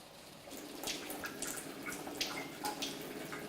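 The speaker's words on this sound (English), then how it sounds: "open your tap as you would" A steady stream of tap water runs and splashes into a basin, with a few brighter drips and spatters over the continuous flow.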